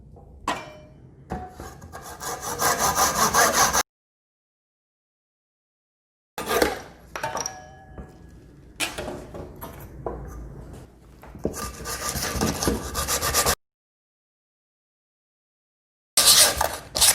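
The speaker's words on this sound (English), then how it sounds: "now we just gotta cut these with the flush trim saw and do a little sanding" A flush trim saw rasps through a wooden dowel joint in quick back-and-forth strokes, pauses, then resumes; later comes steady rubbing like sanding, close up and fairly loud.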